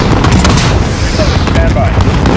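Detonation blast in Call of Duty Modern Warfare, a dense, continuous roar of low booming and gunfire-like bursts that fills the short span at high loudness, with radio-style voices mixed under the battle noise.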